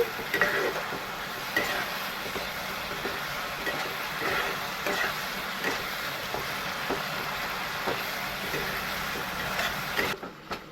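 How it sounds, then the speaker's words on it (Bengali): A spoon scrapes and stirs spices in a hot pan over a medium gas flame while Bhola fish curry with potato and brinjal cooks, soft steady sizzling with repeated faint scraping knocks throughout. "সব মশলা দিয়ে আমি ভালো করে মিক্স করে নিচ্ছি।"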